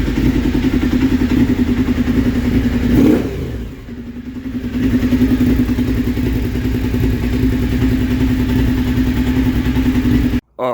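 Suzuki SV1000 motorcycle engine after a fuse swap: a close, loud, steady running rumble with a brief dip around the third second, then it settles and holds before cutting off abruptly at the end.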